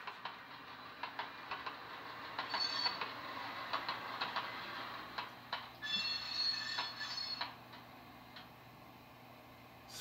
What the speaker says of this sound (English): Little flange and clickety-clack. Speed up locomotive.